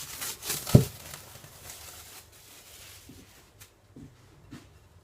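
Risen pizza dough is unwrapped from its plastic covering, with a sharp crinkle near the start followed by quieter, scattered rustles and soft taps, close and fairly faint.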